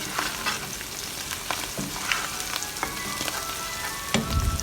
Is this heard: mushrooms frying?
yes